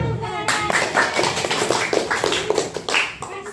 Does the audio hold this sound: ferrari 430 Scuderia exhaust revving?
no